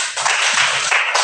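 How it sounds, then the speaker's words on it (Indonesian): A classroom of students applauds a student group, giving a short, dense burst of many hands clapping together, loud and close throughout. "kita beri tepuk tangan dulu untuk kelompok 3"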